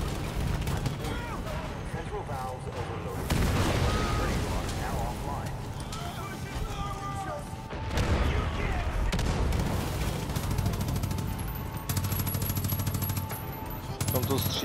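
Rapid automatic gunfire and heavy blasts fill a Far Cry 5 firefight on Xbox One X. The shooting is loud and continuous with bursts throughout, and a player talks over the din.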